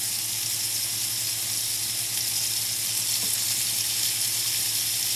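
Parsley and chopped tomatoes go into a hot pan of frying lemon pepper tofu with mushrooms. A steady, close sizzle runs without a break the whole time.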